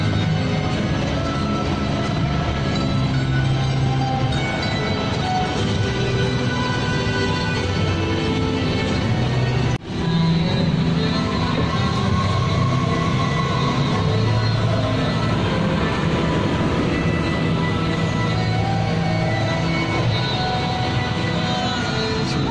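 Steady, loud rumble of a Ferrari-themed ride at Ferrari World Abu Dhabi runs without a break for about twenty seconds, dense low roar with broadband wind-like noise and a brief dip near the middle.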